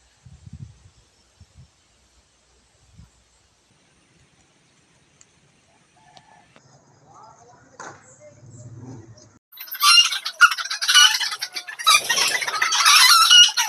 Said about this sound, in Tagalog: Nagpapakain po ako sa ating mga alagang panabong na manok